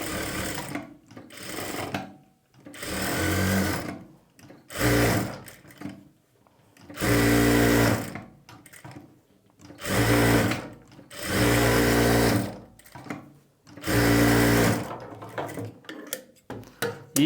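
A sewing machine stitches blouse lining in repeated bursts of a few seconds each, loud and close, separated by short silent pauses between runs.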